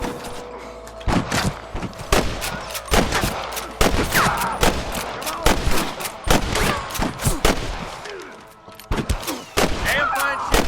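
Repeated gunfire rings out in a Red Dead Redemption shootout on PS3: rapid, loud bursts of shots in irregular volleys across the whole stretch, with scattered voices calling out between them.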